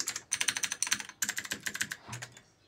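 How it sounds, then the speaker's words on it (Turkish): Rapid bursts of crisp, clicky keystrokes on a Rampage Snug K14 mechanical keyboard with blue switches, typed up close in quick uneven runs with a brief pause midway and a final few presses. "Klavyemiz böyle Blue Switch."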